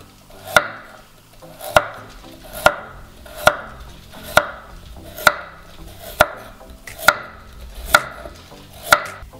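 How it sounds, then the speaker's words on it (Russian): A knife chops vegetables such as carrot and potato into rounds on a board, making about ten evenly spaced, sharp chops in a steady rhythm, close and clear, with no talking. "Сейчас это все нарезаем"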